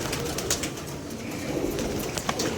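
Pigeons cooing softly alongside low rustling and background hiss, a few faint bird calls rising above the steady ambient noise.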